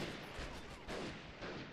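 Gunfire from a video game, a few faint shots in quick succession over a dense, noisy game soundscape.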